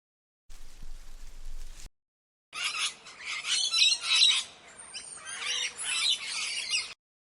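A green parrot in a tree gives harsh, loud squawks, first in a short burst and then in a longer run of raspy calls with brief gaps.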